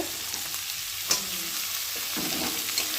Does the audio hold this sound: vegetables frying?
yes